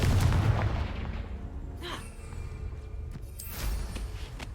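A Confringo fire spell going off in Hogwarts Legacy, a heavy close boom at the onset decaying into rumble, with a smaller burst and crackle shortly after.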